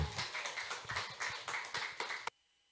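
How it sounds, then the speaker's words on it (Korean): An audience at a Korean-language church lecture claps in a steady, regular rhythm, about a dozen loud, even beats in unison, before cutting off abruptly into near silence. "다시 큰 박수 부탁드립니다."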